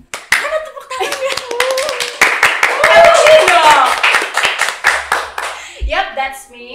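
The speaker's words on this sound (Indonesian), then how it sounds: "Mana tepuk tangannya?" Clapping from a small group on an Indonesian talk show as the host welcomes viewers. Sharp, distinct claps in an uneven run, mixed with lively voices and some laughter, then fading into talk near the end.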